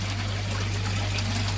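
Water flows steadily from a pipe, a loud continuous rushing hiss over a constant low hum, close by and without pause, no voices.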